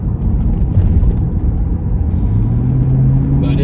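A 1999 Pontiac Firebird Trans Am accelerating under partial throttle, its engine a loud close rumble that rises in pitch as it pulls.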